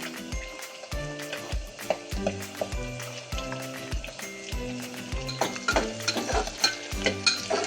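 Onion frying in a pan while mutton is prepared with salt and turmeric, a steady sizzle broken by repeated stirring scrapes and clinks of a spoon against the pan.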